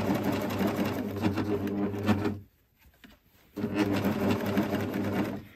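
A coverstitch sewing machine hems fabric with a fast, steady whirring run, pauses for about a second of near silence, then resumes stitching at the same even pace.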